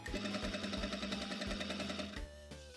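A sewing machine sews a new taper seam along a pant leg in a steady, rhythmic run of close mechanical hammering, then slows and stops near the end, with no voices.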